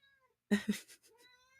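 A house cat lets out a short, close meow in two quick pulses followed by a softer trailing murmur, against a quiet room.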